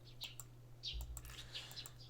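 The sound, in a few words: small birds tweeting in the morning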